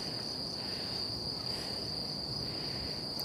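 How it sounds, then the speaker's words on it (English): Steady high-pitched cricket chirring fills the background continuously, a constant outdoor insect drone with no voices. "You can hear all the crickets in the background."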